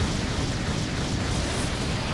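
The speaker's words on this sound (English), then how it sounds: "Big explosion" A dense, roaring explosion blast from the video game Naruto Shippuden Ultimate Ninja Storm 4 fills the moment with loud, sustained broadband rumble, without any speech.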